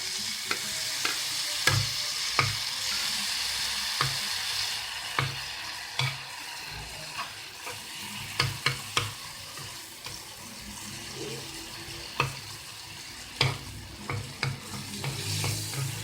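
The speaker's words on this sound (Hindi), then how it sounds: "अदरक को हम थोड़ा सा फ्राई करेंगे। साथ ही इसमें हम एक टमाटर डाल देंगे।" Ginger and tomato frying in a pan for a spicy omelette, a steady soft sizzle with repeated sharp clinks and scrapes of a stirring utensil, moderately close, no voices.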